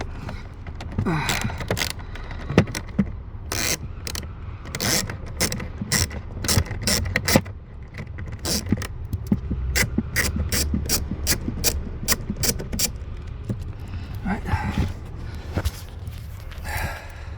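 A ratchet tool backing screws out of the cabin air filter panel on a 2012 BMW F30 328i, rapid close clicking bursts repeated many times with brief pauses and faint breathing.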